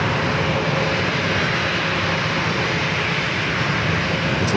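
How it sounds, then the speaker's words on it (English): A Breeze Airways Airbus A220-300 jet arriving at San Diego airport, heard as a steady, loud broadband engine roar that holds constant throughout with no talk. "Breeze flight 542, coming up from Cincinnati, Ohio, Airbus"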